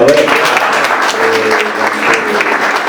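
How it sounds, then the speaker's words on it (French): A room of people claps together, a steady, fairly loud patter of applause with a few voices and tonal sounds mixed underneath. "Elles sont belles expériences, on applaudit quand même."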